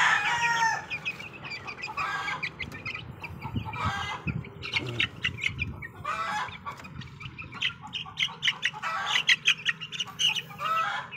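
Devil White cross chickens, including a rooster, cluck and call repeatedly at close range, with busy overlapping bird voices throughout and no talk.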